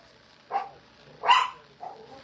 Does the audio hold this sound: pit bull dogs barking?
yes